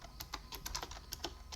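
Keys on a computer keyboard are typed in a quick, irregular run of close, soft clicks while editing text on an Arch Linux setup, with no voices.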